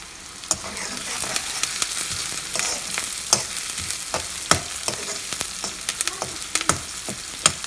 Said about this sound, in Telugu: ఆనియన్ ఫ్రై అవుతుంది.